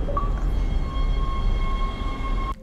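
A tram in the video game Dead Space rumbles steadily, a loud continuous low drone with a sustained metallic whine riding on top, until it cuts to a quieter hum near the end.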